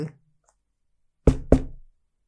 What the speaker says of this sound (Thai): เสียงเคาะประตู